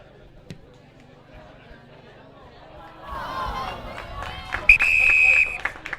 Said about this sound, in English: And hear the crowd